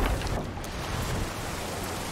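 Steady rain pours with a low rumble of thunder at the start, a dense continuous wash of stormy noise in the game Sea of Thieves, no voices.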